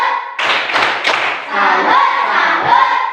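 Children in a classroom clap a short rhythmic salute pattern in unison, a few sharp group claps followed by young voices chanting together.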